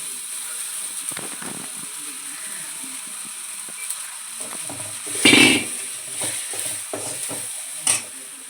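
Finely chopped okra dropped into a pan of hot oil with turmeric and spices, a soft sizzle under faint stirring and scraping clatter, with a couple of louder clanks from the utensil.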